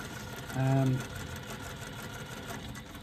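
Sewing machine stitching a zipper pocket seam: a short, steady motor whir of about half a second, close and fairly loud, stands out against quiet room noise. Speech fills much of the surrounding stretch.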